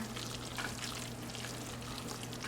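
Cheese being stirred into a hot pot, a steady close sizzle and low bubbling hum with soft scraping, continuous and even throughout, with no voices.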